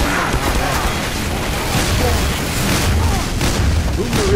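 Explosions in the video game Team Fortress 2: a loud, continuous barrage of booms and blasts with dense rumbling crashes throughout, alone without talking.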